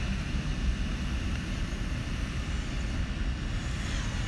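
A drone flies overhead in Hong Kong, a steady broadband whirring hum that holds level and unbroken throughout, fairly distant, with no talking.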